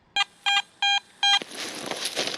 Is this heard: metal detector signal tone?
yes